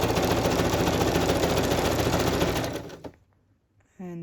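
A sewing machine stitches a fabric boho journal cover, running loud and fast in a steady rapid rhythm for about three seconds before stopping abruptly, then a short whirring restart.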